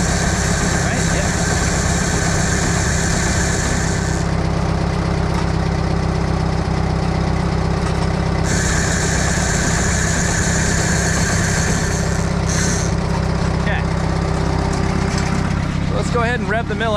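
A Mobile Dimension sawmill engine idles close by, a loud steady low rumble with a constant drone and high whine running throughout, while people talk over it.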